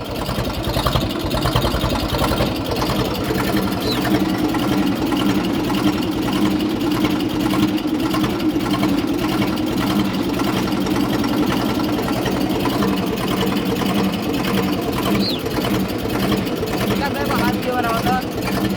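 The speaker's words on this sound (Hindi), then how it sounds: "आवाज़ सुन सकते हैं ट्रैक्टर की।" An old Eicher tractor engine chugs steadily and loudly at about 700 RPM throughout, driving a 7-foot rotavator, a continuous low mechanical drone with rattling machinery.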